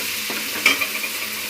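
A spice mixture with kalpasi is stirred in a pan for masala paneer parotta, giving a soft sizzle with a few brief scraping strokes, close and fairly quiet, with no talk.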